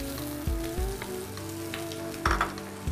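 Bay leaves dropped into hot oil in a home kitchen, sizzling and crackling steadily with a couple of brief bursts, close and moderately loud, with a low steady hum underneath.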